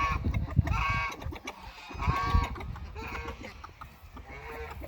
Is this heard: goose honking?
yes